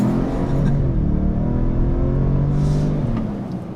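A 2023 Ford Expedition Timberline engine revving, a deep rumbling roar that swells and holds, heard close and loud, then tapers off near the end.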